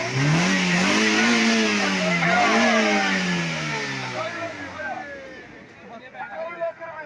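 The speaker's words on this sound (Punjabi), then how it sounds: "ਇੰਜਨ ਦਾ ਸਾਊਂਡ ਬਹੁਤ ਤਗੜਾ ਹੈ ਠੰਡੀ ਮਸ਼ੀਨ ਚਾਲੂ ਹੈ" A Suzuki Mehran car engine, cold-started at a car auction, revs with rising and falling pitch nearby, then settles toward idle as voices chatter in the background.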